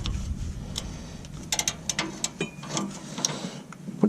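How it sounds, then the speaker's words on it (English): A ratchet clicks on a socket while an O2 sensor is loosened on a car, giving short uneven bursts of close mechanical ticking against a low background hum. "put your ratchet on the socket there and just"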